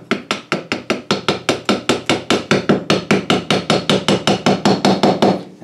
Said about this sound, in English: Tap it down until the old rusty screw hits.